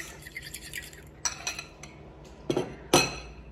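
A fork clinks and scrapes against a bowl while beating an egg for sausage rolls, with light irregular taps and a few sharper clatters near the end, close and quiet.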